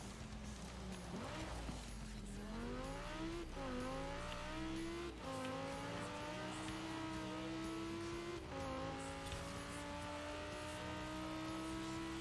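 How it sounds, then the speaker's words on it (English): Race car engine in Forza Horizon 4 revs and climbs steadily through gears, with pitch dipping at each shift and faint tire noise beneath, loud and continuous with no talk. "I'm not a huge fan of the car sounds in this game usually"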